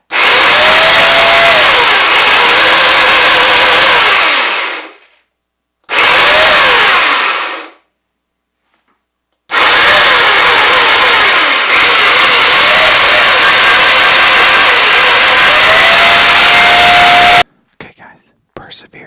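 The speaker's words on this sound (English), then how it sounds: "Nothing like chainsaws in the morning." An electric chainsaw runs in a basement, loud and close, in three long bursts with short pauses between them and a brief clatter at the end.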